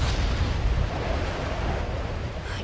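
A castle being destroyed in an anime erupts in a loud, sustained rumbling blast, dense low roar with crumbling noise throughout, no voices.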